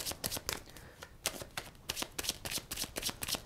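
Tarot cards being shuffled by hand, a close, brisk run of crisp riffling flicks and soft slaps in quick irregular bursts, with no voice over them.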